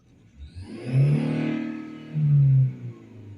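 A car engine revved twice during an accelerator test while hooked to a diagnostic scan tool, each rev rising to a loud roar and then falling back to idle, close by with no talk.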